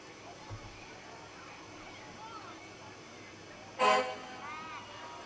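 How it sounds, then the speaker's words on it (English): One short honk of a car horn sounds briefly at a town parade amid faint background rumble and distant voices. "You heard the horn honk"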